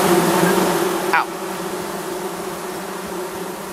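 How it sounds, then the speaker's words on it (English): Bees buzzing in a swarm after a hive is smacked in the video game Among Trees, a loud dense drone that drops to a steadier, quieter hum partway through. "Basically, you just smack it and you run away until the bees disappear."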